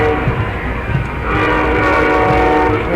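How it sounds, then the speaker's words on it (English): A Montreal-to-New York City passenger train passes near a parade in Plattsburgh, its cars rumbling loudly and close while a long, sustained horn blast swells and holds; no voices are heard. "And an impromptu pass through by the train."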